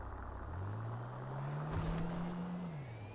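A fast car in GTA Online drives past with an engine hum that rises in pitch, holds steady, then drops away, faint and alone with no talk.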